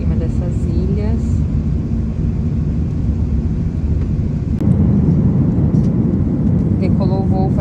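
Steady, loud airplane cabin roar during a flight out of Dubai, a dense low rumble that runs through the whole stretch, with faint bits of background voices and small cabin sounds over it.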